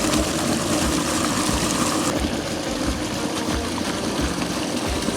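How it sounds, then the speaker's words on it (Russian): A river rushes beneath a crust of ice in December, pouring over a small waterfall with a steady, full roar of churning water close by and no voices. "Бушует речка, несмотря на лед"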